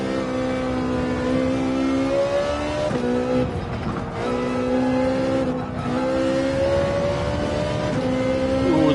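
A Ferrari 458 race car engine in Gran Turismo 7 on the Spa circuit revs hard and steadily, its pitch climbing through gears with short dips at shifts, loud and continuous.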